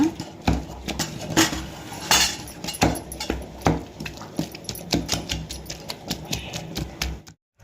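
Fried tomato is crushed in a mortar while making drumstick-leaf sambar, giving irregular, close, sharp tapping and clinking pounds that come in quick clusters and then stop abruptly.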